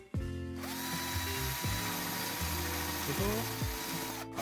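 A power drill bores a hole into wood for a dowel, its motor whining loudly and close in repeated bursts that rev up and slow down as the bit bites into the workpiece.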